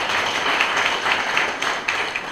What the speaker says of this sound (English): Ladies and gentlemen, another hand clap for our Dean of Students.